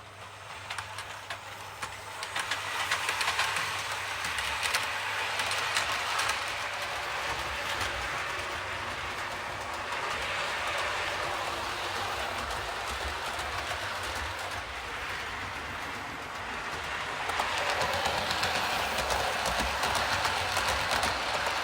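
On board a moving train heading to the Midlands, a steady, loud rumble of carriage and track noise fills the whole stretch, with faint rhythmic wheel clatter and swelling air roar, no voices.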